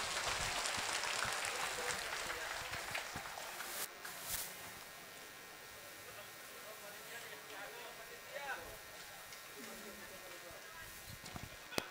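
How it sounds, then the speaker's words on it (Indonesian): Crowd applause from an audience of new students at a university orientation event, a broad wash of clapping that fades gradually over several seconds, with voices and scattered noise beneath. "Berikan tepuk tangannya teman-teman semua."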